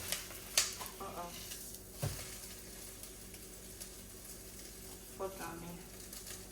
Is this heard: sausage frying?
yes